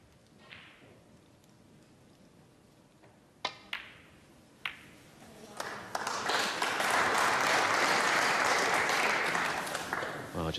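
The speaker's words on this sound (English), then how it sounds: "That prolonged applause as Selby looks a little forlorn was for Mark Williams" In a snooker arena at the UK Championship, a few isolated clicks and knocks give way to loud, prolonged audience applause that swells and holds as a dense wash of clapping through the second half.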